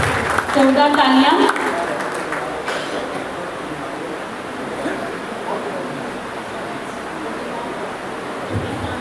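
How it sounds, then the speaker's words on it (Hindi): An audience at a Lions Club ceremony honouring disabled people and journalists in Narwana breaks into sustained applause after a brief burst of louder voiced sound, with clapping continuing as a steady wash. "जोरदार तालियां।"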